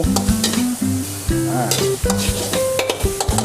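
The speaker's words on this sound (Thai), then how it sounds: "ผัดแห้งๆนะครับ กะเพราของเราต้องแห้งนะครับถึงจะอร่อยนะครับ" Minced pork with holy basil sauce stir-fries until dry in a pan, loud close sizzling broken by rhythmic scraping and clanging strokes of a spatula, with tonal metallic ringing, no voices.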